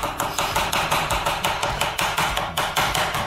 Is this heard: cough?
no